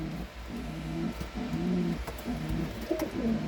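An old-bird racing pigeon coos softly at its loft after a 344 km race, giving a series of low, throaty, rolling coos close by, with faint background rustle.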